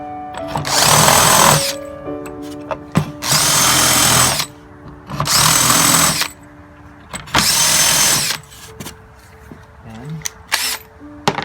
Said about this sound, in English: Countersink everything a little bit deeper.